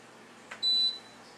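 A single short electronic beep from an Instant Pot while pressure settings are selected, clear and alone in a quiet kitchen.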